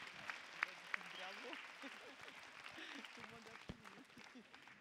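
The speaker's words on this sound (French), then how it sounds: "on peut l'applaudir s'il vous plaît" An audience applauds a French number-one athlete at a sports event, a soft, distant patter of clapping under a voice speaking over it, with a few sharper claps standing out.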